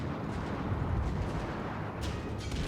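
Battleship main guns firing in World of Warships, with a deep, rumbling boom and continuous low roar throughout, plus a sharper burst near the two-second mark, with no talk.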